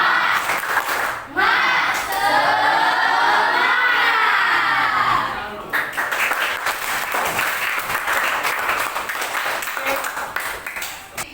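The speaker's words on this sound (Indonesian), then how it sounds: "Oke, tepuk semangat." A grade 9 class in a physical education lesson on badminton does a group spirit clap: children shout together in a loud, rising chant, and then bursts of clapping and scattered voices follow.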